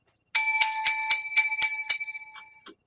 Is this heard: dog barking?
no